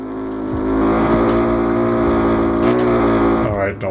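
A motorbike engine in the TrackDayR racing sim holds loud, high revs, then the pitch sags and the revs drop away near the end.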